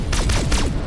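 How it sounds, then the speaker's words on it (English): Rapid laser-like weapon fire from attacking spaceships in a sci-fi movie battle: a dense, loud volley of several sweeping zaps overlapping in quick succession over rumbling low noise, with no talking. "These ain't warning shots."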